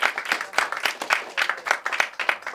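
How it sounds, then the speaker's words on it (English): An audience at a high school poetry reading applauds, with brisk, rhythmic clapping swelling and dipping in waves, loud and close, with no voices over it. "let's give a round of applause for everybody for coming out"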